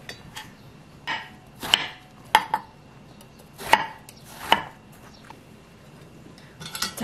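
A knife chops eggplant on a cutting board in sparse, separate strokes, some with a light clink, spaced a second or so apart in a quiet room.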